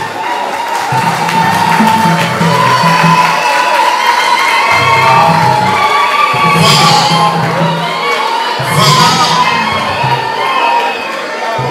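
Loud crowd at a cultural evening event applauding and cheering continuously, with whoops and shouts rising in bursts over sustained clapping.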